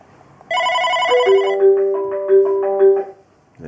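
Incoming call ringing on a 3CX softphone on a computer, a clear electronic ringtone melody of repeated tones heard alone, loud and close, fading out after a few seconds.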